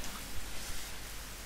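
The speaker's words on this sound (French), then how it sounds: "Après avoir longtemps erré sous la pluie" Steady rain hisses evenly, a dense wash of drops falling on a surface with no voices.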